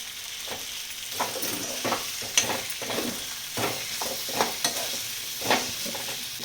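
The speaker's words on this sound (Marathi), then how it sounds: "थोडासा तेलामध्ये बटाटा परतून घेते जरा, म्हणजे मऊ होते." Potato pieces frying in oil in a pan for an aubergine and potato curry, a steady sizzle broken by repeated scraping stirs at an uneven rhythm, close up with no talking.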